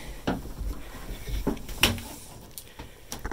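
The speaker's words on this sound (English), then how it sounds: "drawers are a little stiff." Stiff wooden drawers and cupboard doors in the galley of a 1995 Catalina 320 sailboat cabin being opened, giving several scattered knocks, thumps and scrapes at close range, with no talking.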